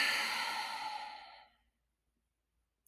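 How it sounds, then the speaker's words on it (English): A single deep breath, a long soft breathy exhale lasting about a second and a half, close and quiet, followed by silence. "Take a deep breath."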